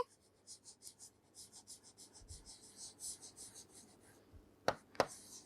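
Chalk or marker scratching across a board as a teacher writes notes during a biology lesson on plant tissue, a rhythmic run of soft, short strokes, faint and close, ending in two sharp taps.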